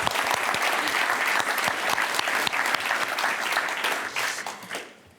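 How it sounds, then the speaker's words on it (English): An audience at an awards ceremony gives a round of applause, dense, even clapping that carries on for several seconds before it tapers off. "A round of applause."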